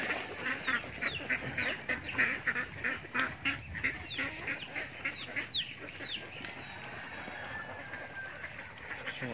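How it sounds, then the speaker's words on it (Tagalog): A flock of domestic ducks being let out of their pen quacks busily and close by, many overlapping calls in a dense, continuous chorus. "Labas na yung itik natin."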